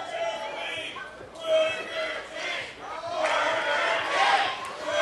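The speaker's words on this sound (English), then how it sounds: "And you hear the Burger King chants." Wrestling crowd at an indoor expo event roars and chants together, a broad sustained wash of many voices swelling and dipping, loudest near the end.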